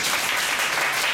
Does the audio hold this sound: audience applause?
yes